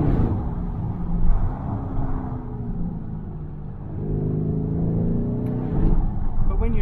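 A Lamborghini Urus drives along a mountain road, its engine rumbling steadily from inside the cabin with gentle swells of revving as it accelerates and eases off.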